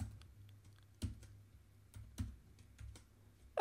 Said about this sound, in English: let's type it in to how secure is my password